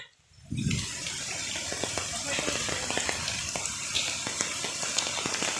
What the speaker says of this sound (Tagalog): ang lakas na ng agos ng tubig.